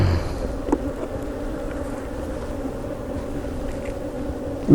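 Honey bees drone around an open hive during maintenance, a steady low buzzing hum at close range, with a couple of faint knocks from handling the frames.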